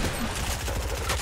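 Rapid automatic gunfire from the video game Fortnite rattles in a dense, loud burst of shots that runs through the whole short moment.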